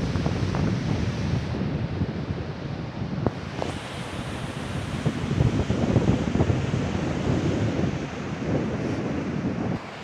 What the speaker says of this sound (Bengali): দারুণ উত্তাল সমুদ্র।